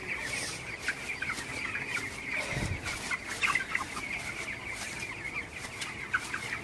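Eighteen-day-old broiler chicks being chased toward Gumboro vaccine water cluck and chirp continuously, a busy nearby flock with overlapping calls and a short scuffle partway through.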